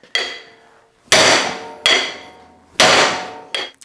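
A hammer bangs on a Massey Ferguson hydraulic cylinder: four loud, ringing metallic strikes spaced about a second apart, each decaying with a long metal ring, then a fifth lighter hit.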